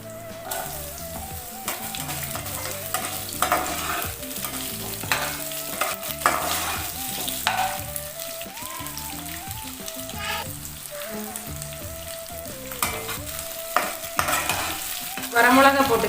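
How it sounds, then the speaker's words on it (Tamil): Onions fry in a pan for radish chutney, a loud close sizzle with repeated scraping and clattering stirring strokes throughout. "வெங்காயம் போட்டுக்கலாம்."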